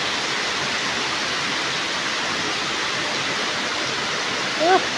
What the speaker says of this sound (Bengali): দেখুন কত সুন্দর বৃষ্টি হচ্ছে।